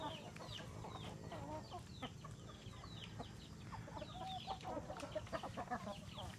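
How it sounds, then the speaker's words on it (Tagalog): Hens fighting in a backyard poultry pen, with agitated clucks and squawks rising over a steady farmyard background, fairly faint and continuous, no talk. "So meron tayong nag-aaway na babaeng manok."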